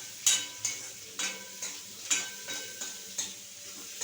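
Onions and tempering with split black gram fry for a tomato curry, a soft sizzle broken by a rhythmic series of spoon scrapes and taps against the pan, quiet and close.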